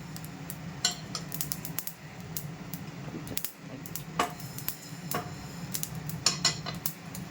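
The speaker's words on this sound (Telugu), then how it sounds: "చూడండి, ఆవాలు చిట్పట్లాడుతున్నాయి, డ్యాన్స్ చేస్తున్నాయి" Mustard seeds spluttering in hot oil in a home kitchen pan, with rapid irregular sharp pops and crackles over a low steady sizzle, close and fairly loud throughout.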